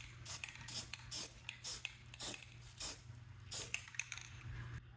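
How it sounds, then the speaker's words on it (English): Silver spray paint goes onto exposed metal on a 1994 Chevy K1500 rear bumper area in short, repeated hissing bursts, close and fairly quiet, with brief pauses between sprays. "I do have some silver spray paint that I'm going to use just to paint over this."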